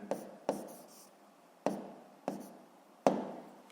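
A pen writes on paper during a seventh-grade physics exercise, giving five short, sharp scratching strokes at uneven intervals, close and quiet, with no voice.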